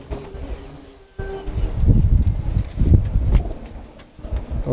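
Palla line pigeons coo in low, throaty pulses, several soft rolling calls close by with short pauses between them, over a faint background hum.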